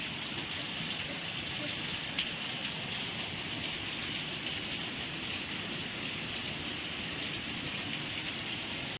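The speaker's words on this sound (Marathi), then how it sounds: "दुपारचे वाजलेले चार आणि एवढ्या जोरात पाऊस चालू आहे" Heavy rain pours down in a dense, unbroken roar, loud and close, with no pauses.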